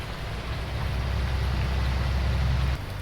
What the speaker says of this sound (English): in this rain, I'm guessing that all of his field work will have to be called off